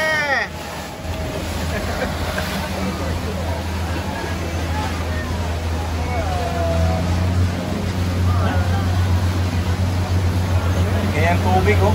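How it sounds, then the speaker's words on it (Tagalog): A river cruise boat's engine on the Melaka river drones in a steady low hum throughout, under passengers' chatter and some wind noise. "Lakas ng makina."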